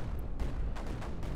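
Explosions in the video game Creeper World 4: a quick series of booming blasts and rumbling bursts, loud and close, with no speech.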